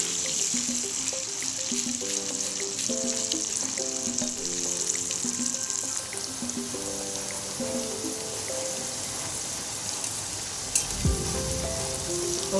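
Potato pieces frying in oil in a wok give a steady, close sizzle that runs throughout, with tonal music playing over it and a brief clunk near the end.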